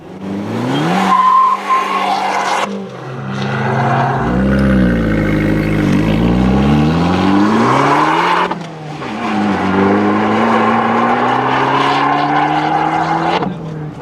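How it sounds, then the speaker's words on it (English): An Abarth 695 Biposto engine revs hard, rising and falling in pitch through several gear-like sweeps, loud and close with a raspy exhaust note. "We'll start it up, show the engine, get an exhaust looking over"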